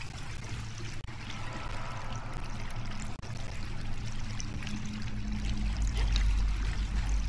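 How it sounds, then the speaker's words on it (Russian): Water pours steadily through an ancient sewer in the video game Conan Exiles, a continuous rushing stream that grows slightly heavier toward the end. "Ну так правильно, воду включает, Саня"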